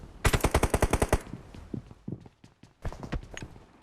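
Rapid automatic gunfire in the mobile game PUBG Mobile, a close burst of about ten evenly spaced shots followed by scattered lighter thumps and footstep-like clatter.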